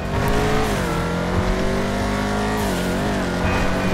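A Chevrolet Camaro in GTA Online accelerates hard, its loud engine climbing steadily in pitch with a brief dip at a gear change and faint tire squeal alongside.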